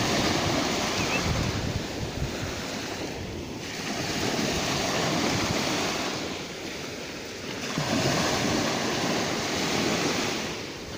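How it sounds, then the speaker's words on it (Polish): Sea waves breaking on a beach shore at Rowy on the Baltic coast, a steady roar of surf swelling and easing in broad surges, with wind buffeting the microphone and no voices. "O, tak to właśnie wygląda, takie są fale."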